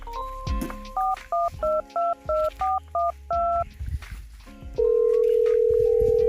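A phone is dialed with a quick series of about nine loud, close touch-tone beeps in an irregular rhythm. A long steady tone follows, with faint background noise between the beeps.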